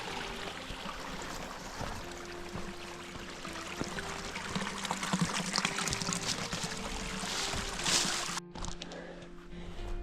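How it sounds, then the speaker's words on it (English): A mountain stream runs through a wildflower meadow in Grand Teton National Park, a steady soft rush of flowing water that stays fairly faint, with a brief rustle near the end. "Another pretty meadow with a stream running through it."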